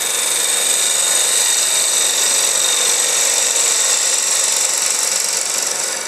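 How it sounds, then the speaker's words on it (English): A 3/8 ball gouge slicing wood on a lathe, a steady, bright hissing cut with an even texture that continues without pause throughout. "that 3/8 ball gouge, I don't think there's anything finer for cutting like this."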